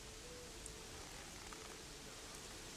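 Steady, soft rain patter in the video game Gothic 3, with a broadband hiss, continuous and even throughout, no voices.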